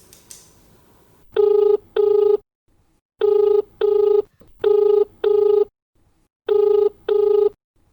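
Telephone ringing on a radio phone-in farming programme, an electronic double-burst ring repeated four times in a steady pattern, loud and close with short silences between pairs, no voices.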